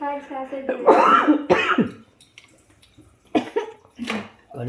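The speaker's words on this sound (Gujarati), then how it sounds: "ઉધરસ આવી" A person coughs and clears their throat in a few harsh bursts, close by, between stretches of talking.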